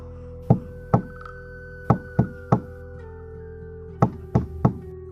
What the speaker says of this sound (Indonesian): tiba-tiba saja dia mendengar suara ketukan pintu jendela